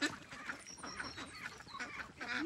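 Khaki Campbell and Welsh Harlequin ducks in a farm duck coop give soft, repeated quacks and chattering calls close by, overlapping in a steady busy flock murmur with no talk.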